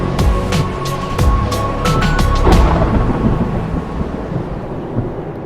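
Thunder rumbles loudly through a monsoon lightning storm in southwestern New Mexico, with sharp crackling cracks in the first few seconds rolling into a long, steady low rumble mixed with rain.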